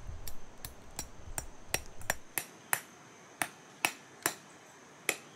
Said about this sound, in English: Rubber strips are added to the outer circumference of the wheel, using nails to attach them to the wood.